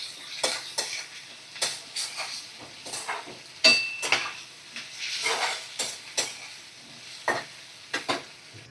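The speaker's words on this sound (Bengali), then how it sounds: "আমি গোটা গরম মশলা ফোড়ন দিয়ে গোটা গরম মশলা দিয়ে দিলাম" Whole cardamom pods, cinnamon sticks and cloves going into hot oil for a chicken curry, with a soft sizzle under repeated sharp clinks and scrapes of a spoon stirring against the pan.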